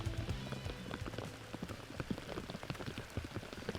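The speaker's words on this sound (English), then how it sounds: "You can hear the rain pouring down here." Steady heavy rain drumming on a surface on a disc golf course, dense patter of drops close by with scattered louder splashes, no voices.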